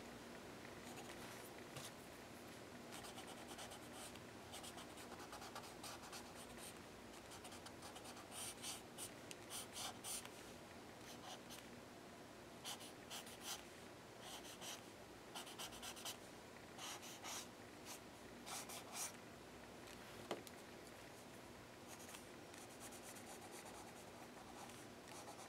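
A number two pencil scratches steadily across paper in a quiet room, with a soft continuous rubbing texture and irregular clusters of sharper strokes throughout.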